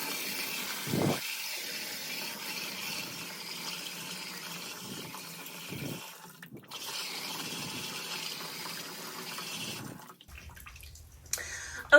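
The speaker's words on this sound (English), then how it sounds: "And now I'm going to fill this tub up with lukewarm water." A bathtub fills with lukewarm water from the tap, a steady, moderately loud rush of running water that continues for several seconds, with brief interruptions and small knocks before the flow is shut off near the end.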